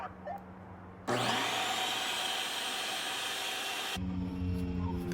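A vacuum switches on and roars steadily for about three seconds, pulling string through underground electrical conduit during a wire install, then cuts off abruptly.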